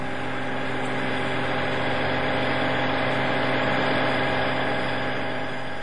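Capstan or turret lathe running at 1,260 revs per minute with tangential roller boxes, a steady mechanical hum with faint whine, constant and unbroken throughout.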